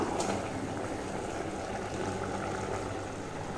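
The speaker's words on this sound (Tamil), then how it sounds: "புளித்த நீர் பாருங்க நல்லா கொதிச்சு வந்தாச்சு" Tamarind water boiling in a cooking pot for sambar rice, a steady close bubbling and hissing simmer that holds evenly throughout with no voices over it.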